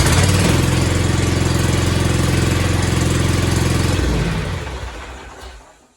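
A lawnmower engine fitted with a new battery runs loud and close at a steady chugging idle for about four seconds, then shuts down and winds away into quiet.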